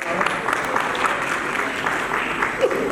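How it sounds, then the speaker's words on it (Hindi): Steady applause welcoming a guest at a Lions Club charter night celebration, a full room clapping continuously at moderate loudness with faint voices mixed in. "सबसे रिक्वेस्ट में तालियां से उनका स्वागत करें।"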